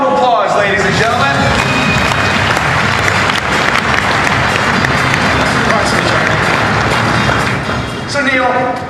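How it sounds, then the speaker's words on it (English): A conference audience applauds at a SolidWorks 2014 event as the SolidGrill's inventor comes on stage; dense, steady clapping fills the room at full volume, with speech faintly mixed in before it eases slightly near the end. "give him a round of applause, ladies and gentlemen"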